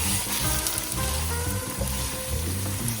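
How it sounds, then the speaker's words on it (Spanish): Meat sears in a hot pan for homemade ramen, a dense continuous sizzle and crackle of frying with occasional stirring, close and steady throughout. "Es importante que vaya sellando la carne."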